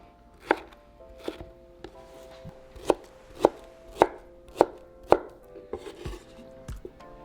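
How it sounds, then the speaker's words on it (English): A knife chops a juicy mango into small cubes on a cutting board: a series of sharp, close, crisp strikes at an uneven rhythm, about a dozen in all, with no talk. "we're going to cut our mangoes into small little cubes"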